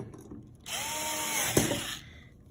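A power screwdriver drives screws into a BUD EXN Series enclosure cover, a close, even motor whine of about a second and a half that ends in a sharp click as the clutch slips at the set torque.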